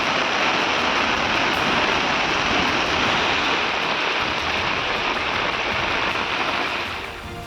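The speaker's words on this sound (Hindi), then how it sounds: "मूसलाधार बारिश की मार ऐसी कि सड़क नदी बन गई और घरों के भीतर तक पानी का कब्जा हो गया।" Torrential rain pours down in Uplet taluka of Rajkot, Gujarat, where streets have flooded like rivers; a steady, loud hiss of rain and rushing water fills the whole stretch without pause.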